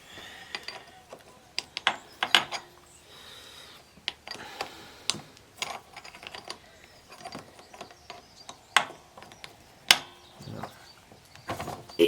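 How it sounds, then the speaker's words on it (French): A 10mm wrench loosens the sprocket bolt on a dirt bike, heard as scattered sharp metallic clicks and taps of varying loudness, close by and spread irregularly across the stretch with no speech. "Clé de 10 donc pour démonter le pignon."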